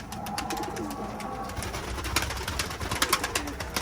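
Pigeons coo repeatedly as they are rounded up into the loft, soft overlapping calls close by with faint shuffling and movement throughout.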